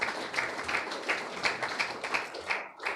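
Audience applause at a Windwards U15 Super 50 tournament closing ceremony, a steady wash of many hands clapping together for about three seconds, fairly close, with rhythmic swells and a brief dip near the end.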